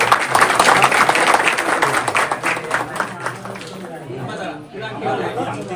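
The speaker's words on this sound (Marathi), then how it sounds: "टाळ्या तरी मारा" Family members clap at a home engagement celebration in Maharashtra, loose uneven claps mixed with constant lively chatter close by, the clapping thinning out toward the end while voices continue.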